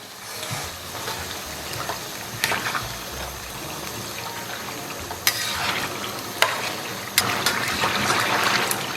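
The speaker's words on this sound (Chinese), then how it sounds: "再给里边来点甜面酱，然后小火给它炒香" Chili sauce, soybean paste, fermented tofu and sweet bean sauce stir-fried over low heat with scallion and ginger in oil, giving a steady soft sizzle with occasional louder scrapes and stirs, close up and without talk.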